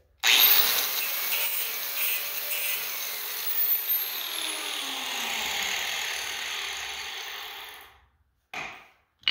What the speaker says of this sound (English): I got my grinder. Now we're just gonna buff right here just a little bit.